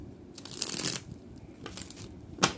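A deck of tarot cards is shuffled by hand, a riffling flutter in two or three quick bursts, close and clear with no talking.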